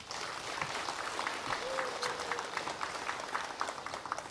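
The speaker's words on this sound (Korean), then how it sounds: "큰 박수 한번 부탁드립니다" Applause from an audience at a nature conservation event, a dense, steady clapping over the whole stretch, with faint crowd murmur underneath.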